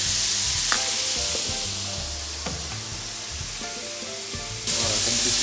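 Poultry pieces browning in a frying pan for an asparagus risotto give off a steady, loud broad sizzle, with occasional utensil scrapes and clinks, and the sizzle briefly swells near the end.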